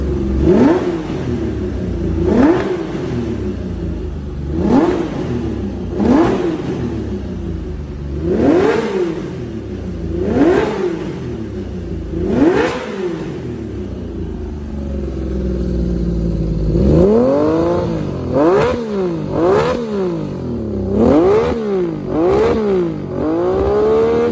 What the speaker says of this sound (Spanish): fijaos cómo sube los puntitos de vueltas